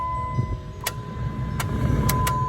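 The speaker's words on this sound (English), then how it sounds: "you can cut your key on and test your blower motor" A Jeep Liberty's blower motor runs with a steady electric whine after a new blower motor resistor is fitted, joined by a low idling hum and a few sharp clicks.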